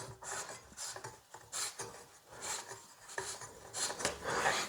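A battery-powered wireless wall sconce is twisted onto its mounting screw, giving a series of soft, gritty rasping and scraping turns in short bursts, fairly quiet and close with no talking.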